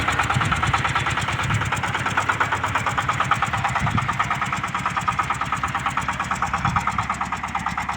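A vehicle engine clearing snow runs steadily and loudly up close, with a fast, even rhythmic chug throughout and no voices.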